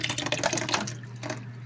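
Nutrament poured into pumpkin punch makes a brief, close liquid gush that tapers off into quieter trickles, with no talking.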